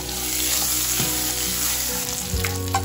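Grated ginger dropped into hot oil with asafoetida and whole cumin seeds, giving a loud, close, continuous crackling sizzle with a few brief clinks and stirring knocks, no speech.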